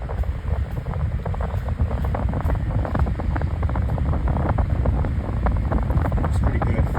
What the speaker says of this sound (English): you probably might be able to hear the wind noise blowing towards the camera